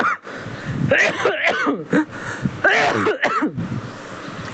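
A person coughs close to the microphone in two or three harsh, throaty bursts, with short gaps between them.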